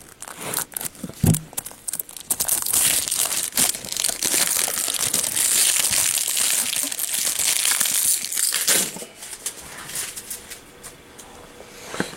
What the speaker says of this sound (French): Donc on va déjà commencer par ouvrir la box.